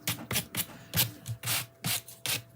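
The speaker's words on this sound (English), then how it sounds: "I'm just very lightly sanding that back a little bit" Light hand sanding of paper in a craft demo, short rhythmic scratchy strokes, about eight quick rubs in a row, close and fairly soft with no talking.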